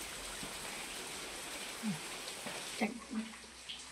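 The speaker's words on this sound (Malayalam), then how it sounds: "ഇവിടെ പുറത്ത് നല്ല മഴയാണ്" Steady hiss of heavy rain falling outside, continuous and fairly loud, with a few faint background voices and knocks.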